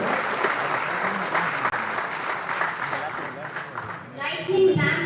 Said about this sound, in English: let's have a clap to our achievements this year